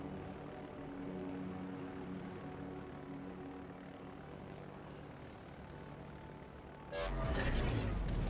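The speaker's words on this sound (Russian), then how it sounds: "Истребитель взлет произвел." A fighter plane takes off from an aircraft carrier in the World of Warships video game, a steady propeller engine drone that swells suddenly louder near the end.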